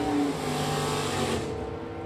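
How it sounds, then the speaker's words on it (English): A white Factory GTC Mustang drag races down the track in Super Stock division racing, a loud, close engine roar holding a high pitch for two seconds before fading slightly. "Rick Rogers, Factory GTC, the white Mustang, hauling the mail down the racetrack."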